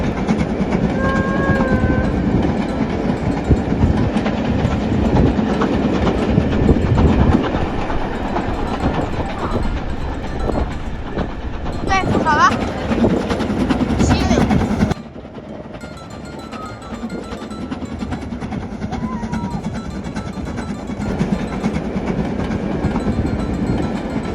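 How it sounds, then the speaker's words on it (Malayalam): The Harry Potter train crosses a bridge in Scotland, with a distant whistle early on and then a sustained rumble and rhythmic clatter of wheels that drops abruptly partway through. "അങ്ങ് ദൂരെ നിന്ന് ചൂളം വിളിയോടുകൂടി നമ്മുടെ ട്രെയിൻ ആ പാലത്തിലൂടെ കടന്നു പോകുന്നു"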